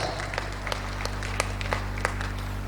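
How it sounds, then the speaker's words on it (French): A church congregation applauding a testimony, with soft, scattered claps at moderate distance forming a light, steady patter over a low background hum. "Acclamons encore très fort pour ce magnifique témoignage"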